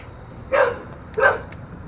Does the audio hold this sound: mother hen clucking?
no